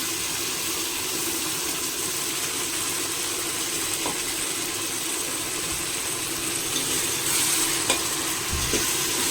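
Ginger garlic paste fries in a pan for a mushroom kurma, a steady, moderately loud sizzling hiss that continues evenly throughout, with a couple of faint stirring knocks and no voices.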